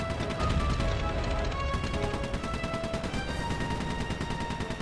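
Steady automatic gunfire from Sly 3: Honor Among Thieves on PS5 rattles continuously and loudly over a droning game soundtrack, with no pauses across the stretch.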